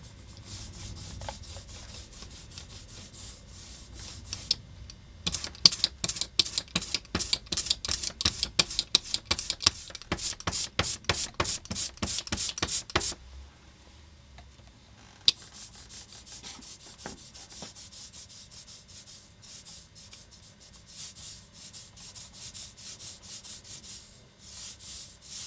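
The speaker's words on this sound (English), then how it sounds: "So the lino ink is applied to the lino" An ink roller works lino printing ink across a lino block, giving a rapid run of sticky, rhythmic rolling passes broken by short pauses, then quieter intermittent rolling with no talk.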